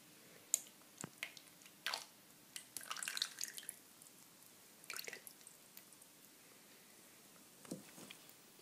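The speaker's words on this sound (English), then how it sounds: "If you accidentally put too much water in, like this one, simply pour the excess back into your jug." Excess water is poured from soaked paper back into a jug, giving sparse, quiet drips and soft wet squishes close by, with short splashy bursts separated by near-silence.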